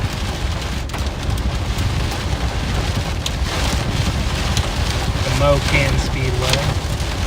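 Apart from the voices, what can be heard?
small hail falling with rain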